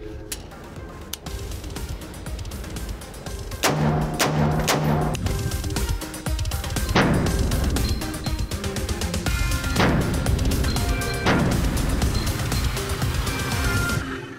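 A POF P308 .308 rifle fires a series of loud, sharp shots, spaced irregularly across several seconds, with echoing reports outdoors at a firing range.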